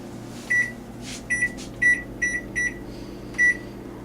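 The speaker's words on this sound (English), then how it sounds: "So we'll set our timer." A series of short, high electronic oven timer beeps sounds in irregular pairs and singles over a low appliance hum, clear and close.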